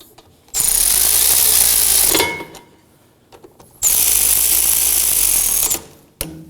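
A tool tightens the rear brake caliper bolts on a 2014-2020 Acura MDX in two loud, close, sustained whirring bursts of about one and a half seconds each, with a short pause and a brief final burst.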